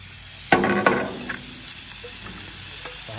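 Strip steak lands in hot oil with two sharp hits, then settles into a steady, faint sizzle with an occasional small clink of utensils.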